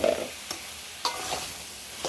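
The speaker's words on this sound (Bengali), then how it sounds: "মাছগুলো উঠিয়ে রেখে মশলার মধ্যে লাউ দিয়ে দিব।" Bottle gourd stirred into a spiced masala in a pan after the rohu fish has been lifted out, with a steady sizzle broken by a few scraping spatula strokes, close and moderately loud, no voices.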